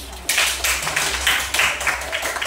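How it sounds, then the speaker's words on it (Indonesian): A group clapping hands in a training session, a fairly loud, close burst of rhythmic clapping in repeated pulses, with faint voices underneath. "tepuk tangan sini"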